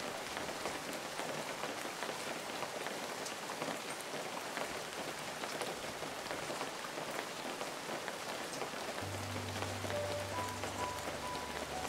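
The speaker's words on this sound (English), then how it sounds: "It's definitely very dark clouds. This rain is lasting a while." Steady rainfall in the video game Feather, a soft continuous patter on surfaces that stays fairly quiet, with a faint low game tone entering near the end.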